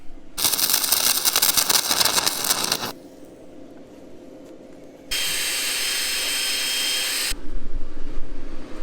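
Welding on a front hitch receiver winch mount bracket for a 2003-2008 Honda Pilot, loud bursts of harsh crackling hiss separated by quieter pauses, with a long steady buzzing stretch in the middle.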